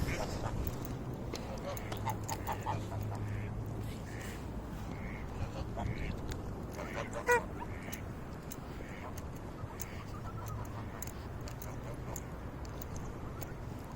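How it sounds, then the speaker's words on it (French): Ducks quack and call around a lake, scattered faint calls over steady outdoor ambience, with a brief louder sound midway. "il y a des canards qui volent"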